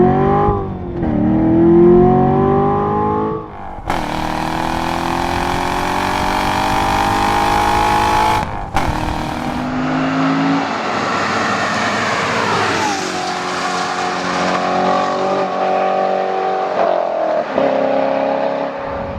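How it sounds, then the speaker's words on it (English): A 2014 Chevrolet Corvette Stingray Z51's exhaust in its loudest mode roars loudly and close, revving up and down through rising gear pulls, deep and raspy throughout with no talking. "Notice the exhaust. This is the loudest, lowest restriction exhaust mode there is."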